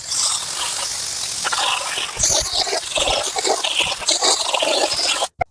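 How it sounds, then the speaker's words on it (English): Water runs steadily into a container to soak horse feed in a stable feed room, a continuous rushing splash with some scraping and clatter, cutting off abruptly at the end. "I'm going to soak this so that it can"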